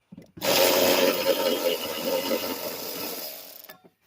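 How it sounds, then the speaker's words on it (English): An electric ratchet wrench with a 10mm socket and 12-inch extension backs out ignition coil bolts on a Ford F-150 Triton engine, giving one close, loud whirring burst of about three seconds. "I'm using a 10mm socket, 12-inch extension, and an electric ratchet wrench because it's faster."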